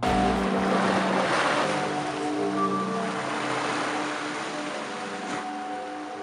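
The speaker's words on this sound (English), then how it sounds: "As waves crash over a series of tubes, harmonious sounds are created and echo over the steps" Waves wash over the Zadar Sea Organ's tubes beneath stone steps by the sea, sounding steady harmonic, pipe-like tones over a continuous surf wash, with a few brief sustained pitches drifting in and out.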